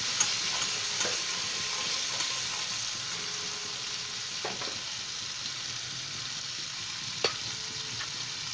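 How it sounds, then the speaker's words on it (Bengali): Spice paste thinned with water sizzles in hot oil in a pan for a quick Bengali fish curry, a steady soft frying hiss heard close with a few sharp clicks of stirring and no talk. "আমি ডিরেক্ট তেলে দিলাম না মশলাটা, তাহলে পুড়ে যেতে পারে, সেই জন্য আমি একটু জল মিশিয়ে এর মধ্যে দিলাম।"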